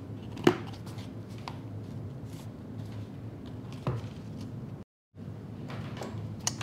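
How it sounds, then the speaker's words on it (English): A lid pressed onto a small pot of paint with a single short knock, followed by a quieter tap a few seconds later, over a steady low room hum. "And then we pop the lid on."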